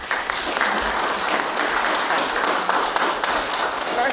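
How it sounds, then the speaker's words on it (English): An audience applauds a speaker, Elaine Goodman, with a dense, sustained burst of clapping filling the whole stretch. "Give her a round of applause, please."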